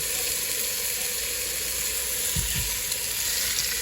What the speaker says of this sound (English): And you want to sear these on all sides.